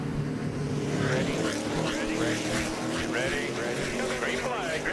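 NASCAR race cars at Nashville Superspeedway roar at full throttle in a steady, droning engine wash, with radio voices talking over the noise.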